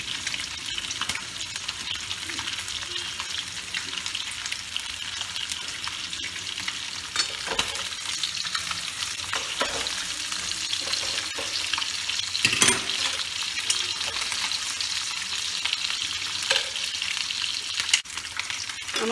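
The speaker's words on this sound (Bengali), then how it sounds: "আমার মাছ ভাজা হয়ে গেছে" Snakehead fish frying in a pan, stirred now and then: a steady, crackling sizzle runs throughout, with occasional scraping stir strokes and faint clinks, and no voices.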